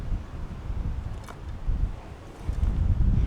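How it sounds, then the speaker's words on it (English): Strong gusty wind blows across an outdoor archery range, a steady low roar buffeting the microphone, swelling louder toward the end, with no voices. "the wind's starting to get a bit hectic"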